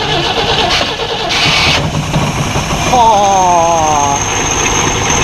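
A 1965 Rambler American 440H engine cranks loudly up close, then catches and settles into a rough, rising idle, with faint voices in the background.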